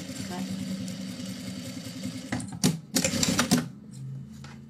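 A domestic sewing machine quilting fabric for a Kitty pouch with a shortened stitch, its rapid mechanical chatter running steadily, then surging in short loud bursts before easing off.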